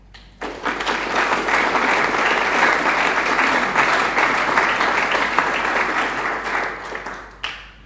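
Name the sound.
audience applause at a graduation ceremony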